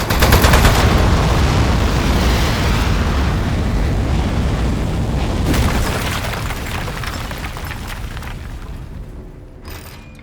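Dense, continuous gunfire and booming blasts from the video game Aperture Desk Job, loud and sustained throughout before tapering off slightly toward the end, with no talk.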